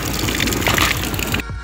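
Water gushes from a public drinking fountain in Barcelona into a bottle, a loud, close, bubbling splash that stops abruptly after about a second and a half.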